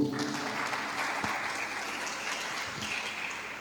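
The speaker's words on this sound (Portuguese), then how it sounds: "Aleluia, queridos, podeis assentar aplaudindo ao Senhor." A church congregation applauding during a worship service, a soft, steady wash of many hands clapping, somewhat distant, with faint voices and a few low thumps beneath it.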